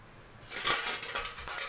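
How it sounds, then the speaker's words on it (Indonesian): A stainless steel folding spoon and military mess kit clatter as they are handled, with bright metallic clinks and scrapes that begin after a quiet opening and continue close up. "sendok lipat ini stainless steel"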